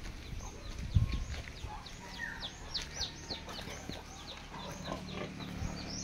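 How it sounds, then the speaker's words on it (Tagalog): Pigs lying around in pens on a small junkshop farm where chickens are also kept give faint, scattered grunts, mixed with chirping birds in a quiet, distant-sounding outdoor setting. "yung mga baboy pala dito"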